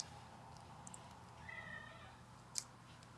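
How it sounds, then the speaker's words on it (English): A cat gives one small, quiet meow in the middle of a calm indoor room, faint and brief against low background noise. "That little meow was Suzy Cute"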